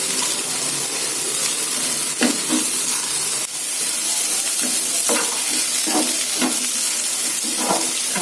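Broccoli sautéing with onion in a hot pan, a steady loud sizzle and hiss broken by repeated scraping stirs, close up and with no talking.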